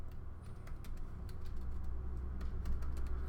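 Soft, rapid keystrokes tap on a computer keyboard, a faint, steady clicking over a low background hum.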